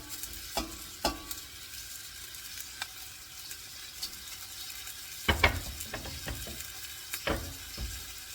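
Stew beef from a bottom roast, cut into bite-sized pieces, browns in batches in a pot with a steady low sizzle, broken by scattered scrapes and clanks of a utensil stirring against the metal.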